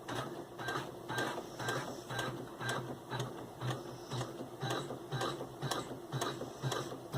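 An Elna 860 embroidery machine stitches a double basting box, a steady rhythmic mechanical clatter of the needle and gears ticking at an even pace, close and alone.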